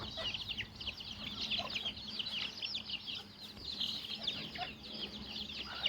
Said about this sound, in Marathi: केवढे आहेत कोंबड्या बघ